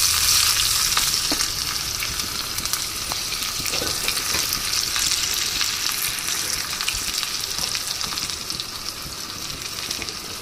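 Chopped onions hit hot oil for a mullangi tomato rasam, giving a loud, continuous sizzle with crackling pops and occasional stirring scrapes close by.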